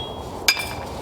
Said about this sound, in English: take a hammer or a little sledgehammer and hit right here in between the lugs